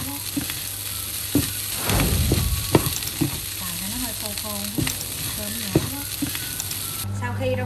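Food frying in a pan is stirred with a utensil, with a constant sizzle and scraping strokes, a voice speaking briefly over it, and the sizzle dropping near the end.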